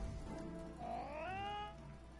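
A Palico cat companion in Monster Hunter World lets out one drawn-out, rising meow over a low game backdrop, moderately quiet and with no speech.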